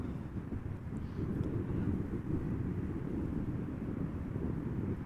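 An Embraer 190 jet arriving at Amsterdam Schiphol in gusty crosswind gives a steady, deep engine roar that holds for the whole stretch, mixed with wind buffeting on the microphone, with no voices.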